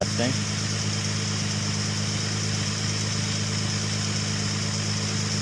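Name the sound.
2004 Infiniti G35 car engine idling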